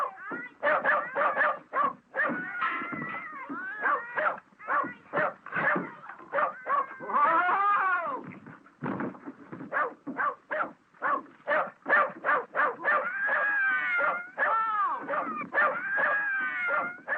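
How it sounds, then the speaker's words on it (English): Dog whimpering, yelping and barking in an old 1936 western film, a steady run of short high yelps and whines with howl-like rises, close and loud throughout. "Nice doggy."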